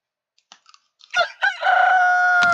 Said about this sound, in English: that rooster was loud